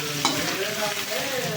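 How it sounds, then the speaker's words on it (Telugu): Potato pieces are stirred into fried onions in a hot pan, giving a brief close sizzle with scraping stir sounds and no voices. "బంగాళదుంపలు వేసేసి ఇలా మంచిగా కలిగి పెట్టుకొని"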